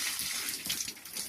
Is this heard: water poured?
yes